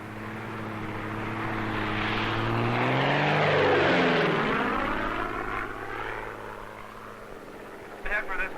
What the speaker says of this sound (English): This plane, operating from a weather research base in Montana, is about to perform an experiment on a cloud.